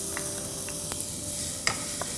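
Garlic sizzling in a pan as the start of an Italian tomato sauce, a soft continuous frying hiss broken by a few faint clicks and taps of a utensil stirring nearby.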